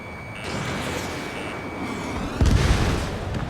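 Missile launches in the jet combat game Ace Combat 7, a steady roar of engine and rushing air with a heavy booming burst near the end, loud and continuous.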